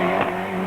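A Ford Escort rally car at the 1993 Boucles de Spa rally drives past while cornering hard, its engine snarling loudly with a brief tire scrub before the sound fades slightly.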